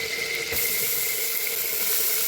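Thankuni greens, potato and eggplant go into a hot pan, setting off a loud, steady sizzling hiss that swells after about half a second and holds without pause, with no voices.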